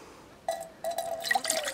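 Room-temperature water pours from a titanium Jetboil pot into a canteen cup, giving close, bright splashing and trickling in two short bursts that ring with a metallic, filling tone.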